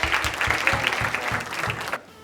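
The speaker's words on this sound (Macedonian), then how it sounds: "Аплауз за Бранка!" A studio audience on a TV quiz show breaks into brief, loud applause: a dense burst of clapping with a rhythmic beat that cuts off abruptly after about two seconds.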